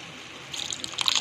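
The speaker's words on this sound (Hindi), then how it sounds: "और हल्का सा वाटर ऐड कर दूँगी मैं।" Water poured into pav bhaji masala cooking in a pan, giving a brief burst of sizzling, bubbling hiss after a quiet start, close and moderately loud with no voices.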